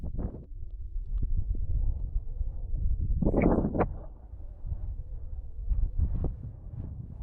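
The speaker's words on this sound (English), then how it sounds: "The wind is pretty strong up here." Strong wind gusting across a high mountain pass at about 5,170 metres, a low buffeting roar battering the microphone continuously, with a brief louder gust midway and faint rustling bursts.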